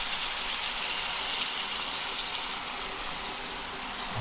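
Soya sauce mixed with water is poured into a hot pan while cooking Naga-style chilli chicken, giving a steady, soft hissing sizzle that holds evenly with no talking.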